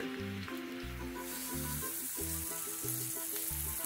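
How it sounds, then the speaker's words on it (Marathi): Sweet potato chips and a cup of milk are mixed in a hot pan for sweet potato halwa, a steady close sizzle running beneath a looping instrumental tune. "हे बघा, असं मिक्स करून घ्यायचं पूर्ण खालती वरती"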